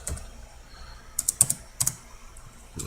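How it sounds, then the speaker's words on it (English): Fingers tap out a short burst of clicks on a computer keyboard, two quick clusters of sharp close keystrokes over a faint background hum. "I'm going to type in"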